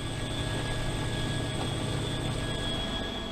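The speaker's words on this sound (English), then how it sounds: "the Marines used a cargo hook to secure the chopper for liftoff." A Sikorsky CH-53K heavy-lift helicopter lifts off, its engines and rotors producing a loud, continuous broadband roar with steady turbine whine tones throughout.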